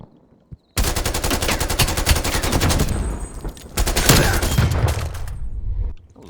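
A flashbang grenade goes off in a shooter video game, a sudden loud burst followed by several seconds of dense, rapid crackling and rattling that swells again before cutting off abruptly.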